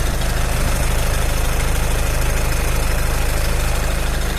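A warmed-up 2012 VW Touran 2.0 TDI 140 hp diesel engine idles steadily and loudly nearby, a low, even rumble with a rapid rhythmic knock and no other sounds.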